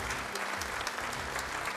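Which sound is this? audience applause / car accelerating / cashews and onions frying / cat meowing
audience applause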